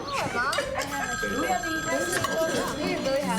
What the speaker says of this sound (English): do you want to get the phone?